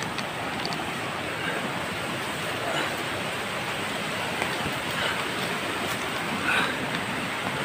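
A flooded stream rushes past in a constant, dense roar of flowing water, close and loud, with no breaks and no voices.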